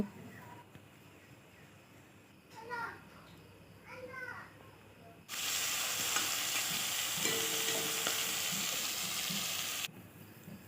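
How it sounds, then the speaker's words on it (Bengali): Fish pieces coated in salt and turmeric start frying, a bright, steady sizzle bursting in after a few quiet seconds with soft clinks, then cutting off abruptly near the end. "আর মাছগুলোকে নুন আর হলুদ মেখে লাল লাল করে এখন ভেজে নেব"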